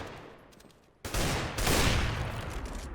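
Weapon fire in CS:GO on the Dust2 map, an AWP sniper rifle alongside a pistol: a sudden loud gunfire burst cuts in after a quiet start, then a second heavy report and sustained noisy firing with no talk.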